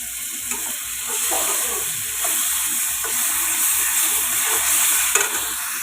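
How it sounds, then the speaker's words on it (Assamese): Grated tomatoes hit hot frying spices in a pan for a bami fish curry, a loud close sizzle with rhythmic stirring strokes repeating roughly twice a second. "এতিয়া মই গ্ৰে কৰি থোৱা টমেটো দুটা দি দিছোঁ ইয়াত।"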